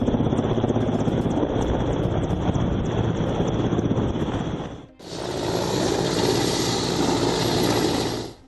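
An Indian Air Force helicopter working a river rescue of 14 people stranded midstream roars steadily with heavy rotor and wind noise, then cuts briefly to another loud, continuous stretch of the same din.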